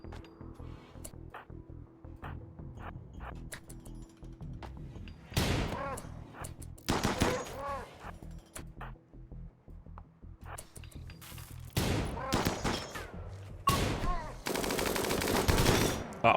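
Assault rifle gunfire in RimWorld arrives in dense, loud bursts and sustained rattling volleys, separated by quieter stretches of scattered single shots and background game music.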